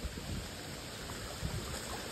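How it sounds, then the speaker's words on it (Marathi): Water coming down from a mountain, heard as a steady, soft broadband rush with no breaks and no voices. "हे बघा हे आमच्या इथं डोंगरावरून पाणी येतं"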